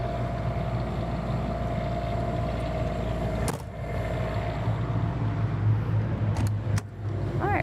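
A Cummins Onan 8,000 watt RV generator on a 2025 Renegade Verona 36VSB runs with the air conditioners on, a loud, steady, droning hum with a couple of brief dips.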